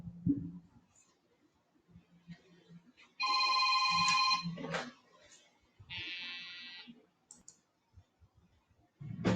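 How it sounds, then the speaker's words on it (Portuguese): A telephone rings during a coronavirus lecture, with two bursts of a clear electronic ringtone in the middle. Quiet clicks and low speech-like sounds surround the rings, and a louder, noisier moment comes at the end. "desculpem o telefone ter tocado"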